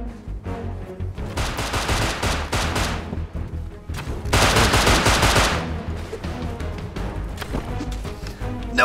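Rapid automatic gunfire in the survival game Rust, heard as dense, loud volleys of shots with a fierce burst in the middle and scattered single cracks between them.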